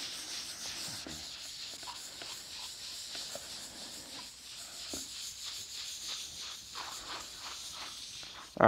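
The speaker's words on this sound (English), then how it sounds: "Not only are you getting an accurate finish when you use the sanding pads," Rhythmic rubbing strokes of a sanding pad by hand on a bowling ball, a repeated scratchy hiss at a steady back-and-forth pace, close up with no talking.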